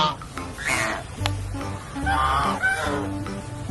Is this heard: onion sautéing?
no